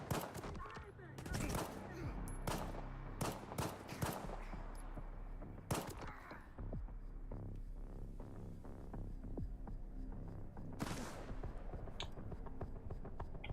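Gunfire in the shooter S.T.A.L.K.E.R. 2: Heart of Chornobyl, sharp shots and rapid bursts cracking out irregularly over a low throbbing hum, with a dense cluster early on and scattered single reports later.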